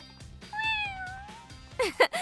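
A long, high, drawn-out meow from a small kitten, near and clear over a soft rhythmic background, followed by brief sharper sounds.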